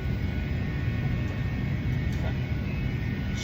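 Steady broadband cabin roar inside an airliner in flight to Madagascar, a constant low drone filling the whole stretch with no voices.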